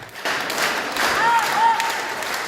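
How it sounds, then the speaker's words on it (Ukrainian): Audience ovation for a performer, a sustained, moderately loud wash of many people clapping that swells after a quieter start, with a couple of faint whistles above it. "Глядачі зустрічали Дарину Бянову квітами і неймовірними оваціями."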